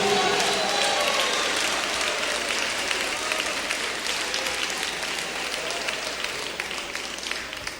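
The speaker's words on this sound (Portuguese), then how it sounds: "Batam palmas e glorifiquem ao Senhor." A church congregation claps and applauds during a service: dense, sustained applause from many hands, steady and loud throughout, with a faint murmur of voices mixed in.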